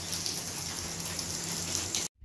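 Heavy rain pours steadily at night during a thunderstorm in Attock, a dense, even hiss of drops on surfaces that continues without pause, then cuts off abruptly near the end.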